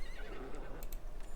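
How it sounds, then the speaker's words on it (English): A horse whinnies in the video game Palia, a soft, fairly faint neigh with a few light hoof clicks, with no one talking. "Here we have a horse."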